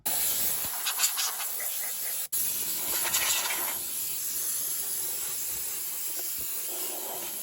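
Compressed air blows off freshly cleaned ground wire contact spots on a 3.0 diesel VW Touareg, a loud, steady close hiss with a brief cut partway through, and no one speaking.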